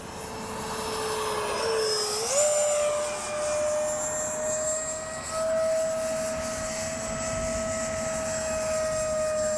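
An H-King Flycat V2 radio-controlled jet flies past with a loud, steady turbine whine that climbs in pitch about two seconds in and then holds, shrill and continuous for the whole stretch.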